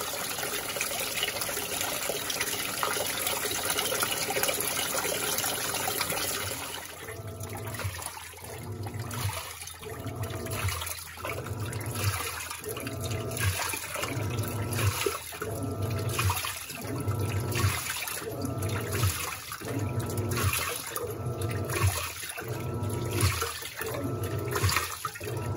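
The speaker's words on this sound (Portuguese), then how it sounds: "Parecendo o comercial da Panasonic, que mostra as águas dançantes assim, a máquina lavando livremente." Panasonic cyclone-system 14 kg top-loading washing machine (NA-F140B6) washing bed linens, a steady rush of water at first, then a rhythmic churning slosh repeating about once a second as the agitator swirls the load, loud and close.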